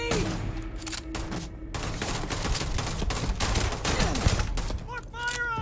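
Starfield gunfire during a firefight, a sustained barrage of rapid, loud shots and bursts running throughout, with intermittent shouting voices layered over the shooting.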